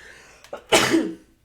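A single sharp sneeze bursts out close by after a brief intake of breath, then fades quickly.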